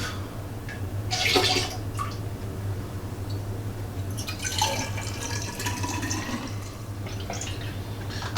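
Homebrew beer is poured through a funnel into a test tube, making a trickling, splashing liquid sound with drips that rise and fall. It is heard close up over a low steady hum.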